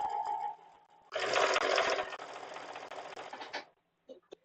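A sewing machine stitches jelly roll quilt strips in one loud steady run of about two and a half seconds. It is followed by a few soft clicks, with no talk.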